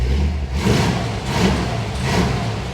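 A Chevy 350 V8 idles with a choppy cam lope, a close, loud low rumble rising and falling in about three rhythmic surges.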